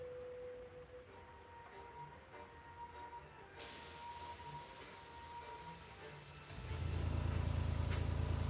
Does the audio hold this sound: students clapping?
no